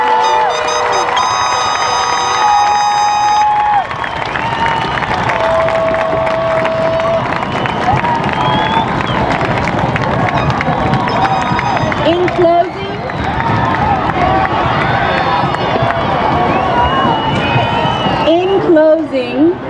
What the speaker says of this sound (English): Another round of applause for our graduates this evening.